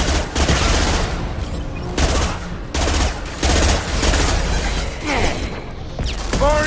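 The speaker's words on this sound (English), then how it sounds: "Firing concussive shot." Weapon fire in the Mass Effect video game, including a concussive shot, comes as loud repeated bursts of gunfire and impacts in a dense, rapid barrage with brief gaps, and no talking.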